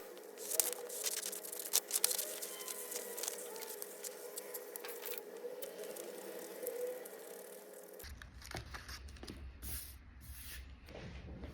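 Scissors cutting fabric pieces for headphone covers, with soft repeated snipping and rubbing of cloth close by, irregular and fairly quiet, without talk.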